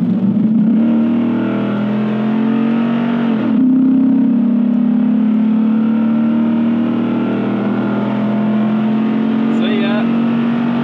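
A big truck's engine pulls hard and steadily under acceleration, with a loud, sustained low drone that briefly shifts pitch as it changes gear, while someone talks over it.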